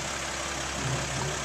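A Mercedes Sprinter van engine idles with a steady low rumble while a woman parallel parks it, a constant hum with a slight swell in the middle.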